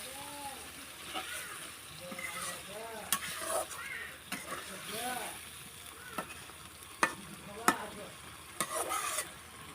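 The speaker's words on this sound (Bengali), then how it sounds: "মশলাটার সাথে মাছটা এখন ভালোভাবে মিক্স করে নেব" Hilsa fish is fried in spice paste and oil and stirred, with repeated scraping strokes and clacks over a soft sizzle. A voice is heard faintly in the background.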